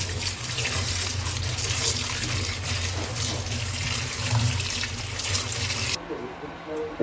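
Jute leaves are rinsed under running tap water, a steady close splashing gush with a low rumble that cuts off near the end, while a voice talks over it.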